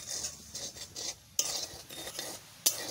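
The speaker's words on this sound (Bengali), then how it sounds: "আমি সুজিতে কোনো ঘিটি দিয়ে কিচ্ছু দিয়ে ভাজবো না, এমনি শুকনো খোলার পরেই ভাজবো" Semolina dry-roasting in a pan without ghee or oil, stirred with a utensil in repeated rhythmic scraping strokes, with a couple of sharper metallic clinks, close and fairly quiet.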